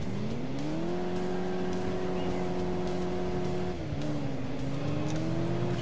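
Engine of a car in the video game Alarm für Cobra 11 drones loudly and steadily while accelerating, its pitch climbing, holding, then dropping briefly before rising again, and no speech is heard.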